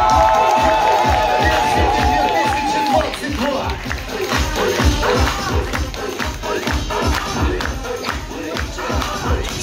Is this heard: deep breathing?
no